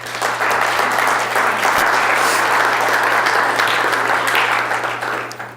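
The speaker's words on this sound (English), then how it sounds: "Give you guys a round of applause." An audience at a city mayoral debate applauds in a dense, sustained burst lasting several seconds, with a low steady hum beneath the clapping.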